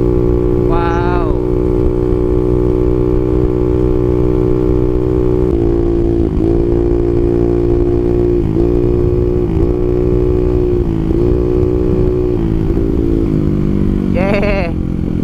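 A Yamaha Mio scooter fitted with a cheap racing exhaust with a large silencer idles loudly and close up, its deep throbbing broken by several short throttle blips and two sharper revs near the start and end.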